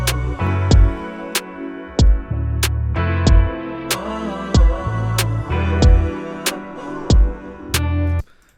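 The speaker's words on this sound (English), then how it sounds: "So kick on 1 and 3," A basic drum beat with kick on beats one and three and snare on two and four, hi-hat ticking steadily throughout, looping several bars, loud and close with no voices.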